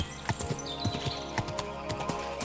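Horse hooves clip-clop along a road in the video game Kingdom Come: Deliverance 2, a steady near rhythm of hoof strikes under ambient game sound and music.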